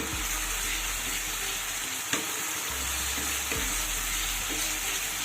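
Spice paste for a vegetarian ridge gourd dish fries in oil that is separating from the masala, giving a constant bright sizzle with a few soft scraping stirs and a sharp clink of the spoon.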